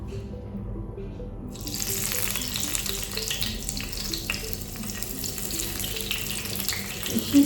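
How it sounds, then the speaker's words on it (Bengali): Eggplant slices sizzle and fry steadily in hot oil, a dense crackling hiss that begins abruptly after a quiet opening and continues close and loud throughout, with no talking. "তেল তো গরম হয়ে গেছে, এখন বেগুনগুলো ভেজে নিই"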